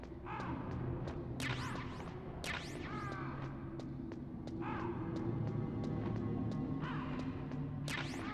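Crows caw repeatedly in Metal Gear Solid, their harsh calls coming in scattered bursts over a steady low game ambience, moderately close and overlapping.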